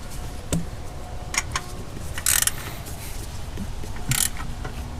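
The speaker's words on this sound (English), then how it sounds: "These box end ratcheting head flex head wrenches from Gear Wrench, so it makes it easier to get into places." A Gear Wrench box-end ratcheting flex-head wrench works on header bolts of a Toyota 3RZ engine, giving short bursts of quick metallic ratchet clicks with pauses between them over a low background hum.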